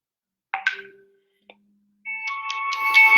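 A mobile phone sounds with incoming calls, a couple of short tones followed by a rising ringtone melody, fairly close and alone in an otherwise quiet setting.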